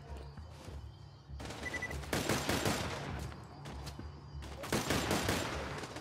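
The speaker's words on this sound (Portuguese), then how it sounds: "Granada, rapaziada, granada aí pra vocês." Gunfire and grenade blasts in the video game Borderlands 2 come as rapid bursts of shots and rumbling impacts in several clusters, fairly quiet against a low game background hum.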